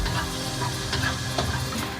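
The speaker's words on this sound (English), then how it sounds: "so that you can see this is starting to sizzle" Fresh crushed garlic sizzles steadily in a hot pan on a Thai food truck, a continuous bright frying hiss with occasional soft scrapes of stirring, close and even throughout.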